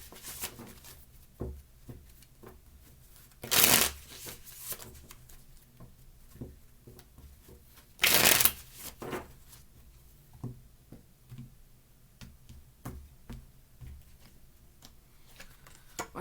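Two short bursts of crisp riffling as a deck of tarot cards is shuffled, separated by quiet with faint ticks and taps in between.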